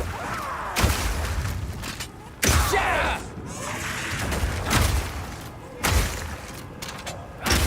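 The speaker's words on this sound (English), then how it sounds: "Shooting a frozen enemy with Armor Piercing Burst Shot will explode the ice, doing a huge amount of damage to all nearby enemies." Crossbow Armor Piercing Burst Shot blasts shatter frozen enemies in Path of Exile 2, with loud booming bursts, whooshes and crackling ice debris recurring roughly every one and a half seconds.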